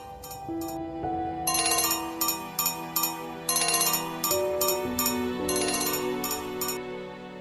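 A phone ringtone plays a bright repeating electronic melody in short rhythmic bursts, clear and fairly close, in a quiet room with no talking.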